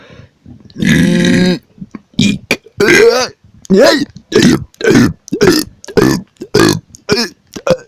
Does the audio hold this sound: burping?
yes